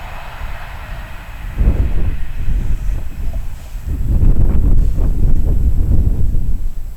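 LNER Class 801 Azuma unit 801223 on a London King's Cross to Edinburgh service passes at speed on the East Coast Main Line, a rising roar and rumble growing loud over a few seconds amid wind buffeting.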